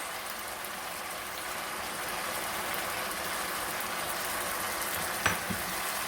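Zucchini and garlic stir-frying in a hot pan, a steady loud sizzle with a brief clack of utensil near the end, close and continuous without speech.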